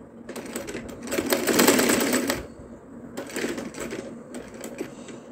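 Sewing machine stitching a cloth for wrapping chapatis, two bursts of fast rapid needle clatter separated by a short pause, close and fairly loud.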